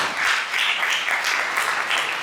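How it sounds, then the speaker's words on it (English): An audience at a poetry reading claps in a steady, full round of applause, loud and continuous throughout. "A round of applause for"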